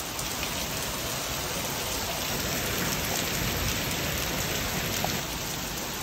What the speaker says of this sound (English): We're getting just a little bit of rain.